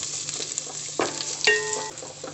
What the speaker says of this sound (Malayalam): പച്ചമണം മാറണ വരെ നന്നായിട്ട് വഴറ്റിയെടുക്കുക